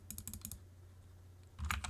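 Quick bursts of typing on a computer keyboard, a cluster of rapid clicks, a short pause, then another flurry, close and quiet.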